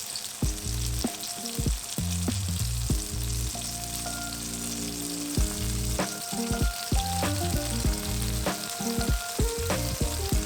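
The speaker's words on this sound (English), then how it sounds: "Once we give the tomatoes, in this case, a light frying and let it release its juices" Tomatoes lightly frying in a pan give a steady close sizzle and crackle, with occasional stirring clatter and no talk.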